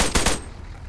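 Two quick, loud gunshot bursts crack back to back in the military shooter ARMA 3, then cut off into a fading tail and near silence.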